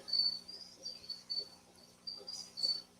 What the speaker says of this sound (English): Nope, just my crickets.